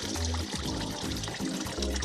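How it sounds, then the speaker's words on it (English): Curing water poured off olives, a steady close gushing pour with some trickling, continuous for the whole short stretch. "Okay, just drain them all out."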